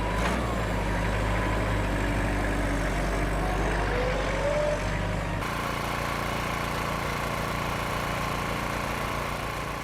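A Kubota tractor engine runs steadily on a farm during bale wrapping, a loud continuous mechanical drone with a shift in tone partway through.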